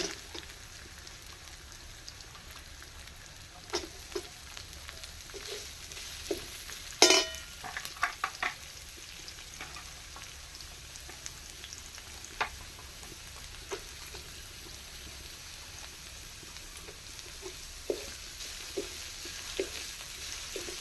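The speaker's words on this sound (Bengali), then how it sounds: "পেঁয়াজগুলো একটু লাল লাল করে ভেজে নেব" Chopped onion with green chilli frying in a pan for a vegetable egg chop filling, a steady low sizzle broken by scattered stirring scrapes and one sharp clatter, no voices.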